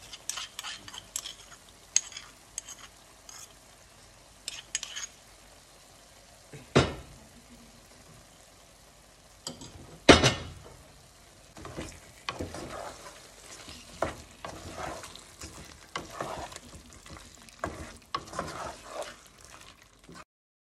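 Ground chili paste fries in a pan, a continuous soft sizzle broken by scattered scrapes and clinks of a spoon stirring, with a few louder knocks against the pan.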